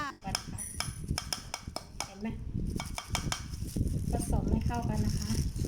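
Margarine and sugar are stirred together in a bowl, giving irregular scraping and clinking of a utensil against the bowl, with a voice talking underneath.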